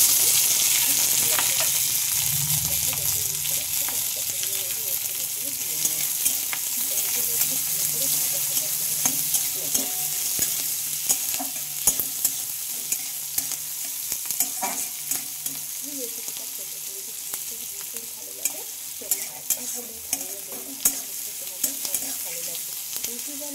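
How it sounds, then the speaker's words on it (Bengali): Chopped onion and garlic fry in oil in a pan with a dried red chili, for a masoor dal dish, sizzling steadily throughout with regular clicks and scrapes of stirring, close and alone. "পেঁয়াজটা কিন্তু আমি বেশ লাল করে দেখো ভেজে নিচ্ছি"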